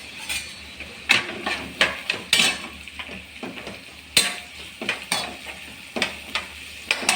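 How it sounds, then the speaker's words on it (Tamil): Pepper chicken masala sautéing in a pan, with repeated scraping stir strokes and a low sizzle underneath, the spatula clacks landing roughly once a second, close and fairly loud. "நல்லா வதக்கி விடலாம்."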